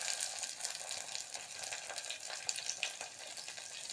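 Four finely chopped green chilies hit hot oil in a pan for a Sundaikkai puli pachadi, giving a steady, close crackling sizzle with small popping spits throughout.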